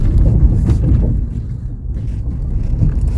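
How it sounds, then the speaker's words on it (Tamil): A vehicle jolts and rumbles over a rough, bumpy road through a forest at night, a low, continuous engine and tyre rumble with wind-like noise, close and fairly loud. "வண்டி ரோடு மோசமா இருக்குல்ல அதனால அப்படியே கடமுட கடமுடன்னு ஏற வேண்டியதா இருக்கு"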